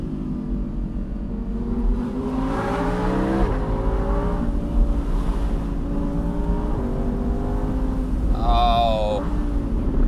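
An Audi R8 V10 Plus Spyder drives along a mountain pass, its engine rising and falling through several close, rumbling pulls with a brief sharp high note near the end.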